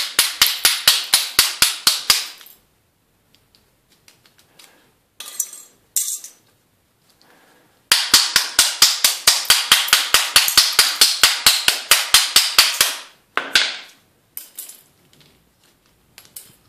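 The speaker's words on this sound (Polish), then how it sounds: "Jeszcze parę razy młotem powalimy." A hammer strikes a transformer to break it apart for its copper. Bursts of rapid, sharp metallic clanks ring out close and loud in fast regular runs, separated by short pauses with a few isolated knocks.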